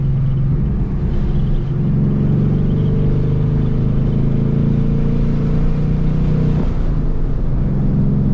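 A Ford Mustang RTR Spec 5 10th Anniversary Edition rumbles on track at Circuit of the Americas, a steady, heavy low engine drone heard from close by throughout, with a slight shift in pitch near the end.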